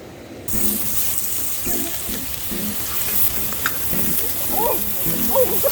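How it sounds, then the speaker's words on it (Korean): Beef intestines, daechang and gopchang, sizzling loudly in a pan at a family campsite, a steady bright hiss with some stirring clatter and a few faint voices in the background. "오늘 저녁은 대창이랑 곱창 부어가지고 가운데 기름 나오면 부추 콱 넣어가지고"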